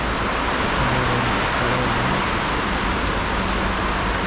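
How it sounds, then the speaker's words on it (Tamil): Heavy rain pours steadily during a motorcycle road trip toward Srinagar, a dense, loud, continuous hiss of drops on surfaces with a low rumble underneath and no voices. "ஏன் மக்களே கிளம்புன உடனே இப்படி மழை வந்துடுச்சு"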